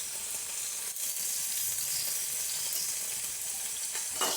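Prawns fry in hot coconut oil with a loud, steady sizzle and hiss, close up, with a few brief stirring scrapes and a flare of crackling near the end, no voices.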